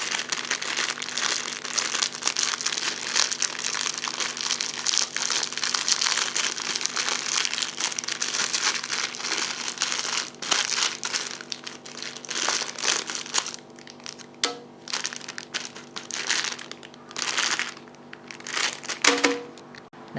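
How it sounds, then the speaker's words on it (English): Close, crisp crinkling and crushing of a plastic Maggi chicken instant noodle packet being opened, continuous rustling that turns into sharper, intermittent crackles and tearing toward the end. "Now we have the obligatory ASMR opening of package."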